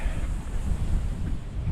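Wind buffets the microphone over a steady rush of ocean surf at Hilton Head beach, continuous and fairly loud with no talking.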